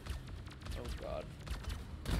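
Turret gunfire in Deep Rock Galactic, fairly quiet rapid shots repeating through the whole stretch and mixed with game noise and faint voice-like sounds, with a louder burst at the very end.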